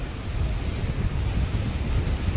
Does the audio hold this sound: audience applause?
no